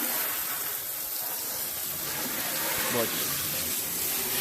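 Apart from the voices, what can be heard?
water spraying to wash out a Honda car interior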